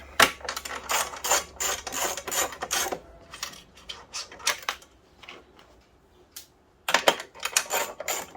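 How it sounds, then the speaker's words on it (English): Metallic rattles, clinks and scraping as bolts are removed from the front cover of a touch screen kiosk being scrapped for metal, in irregular clusters at a moderate level with a quiet pause partway through. "now we'll take this front cover on it, remove some more bolts here."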